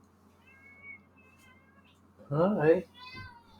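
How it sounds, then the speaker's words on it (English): Pet cat meowing indoors in a home office, a short loud cluster of meows near the microphone with a person briefly speaking just before and after. "You might hear her meowing."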